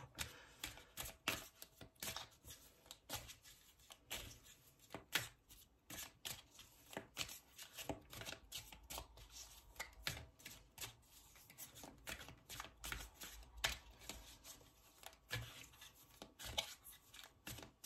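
A deck of tarot cards shuffled steadily by hand for a reading, rapid papery riffles and slaps repeating close and quiet with no talk.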